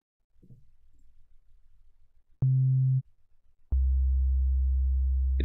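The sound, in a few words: synthesized Rhodes electric piano playing note C3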